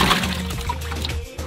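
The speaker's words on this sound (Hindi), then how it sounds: "अरे पानी इधर डाल, इसको धोना भाई, साफ धो लेते आलूओं को।" Water sloshing and pouring over potatoes being washed, a brief liquid trickle and splash at close range, with no talk.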